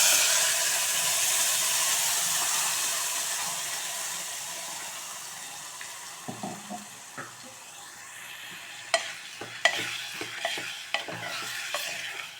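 A ground raw vegetable paste for veg kurma fries in oil, a fading sizzle giving way to scattered scraping and clicking as a spoon stirs the pan, with no voices.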